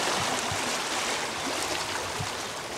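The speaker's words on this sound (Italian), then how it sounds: "vediamo quanta acqua che sta arrivando." Steady broadband rush of water flowing into a drainage ditch during ditch restoration work in March, continuous and fairly close with no voices.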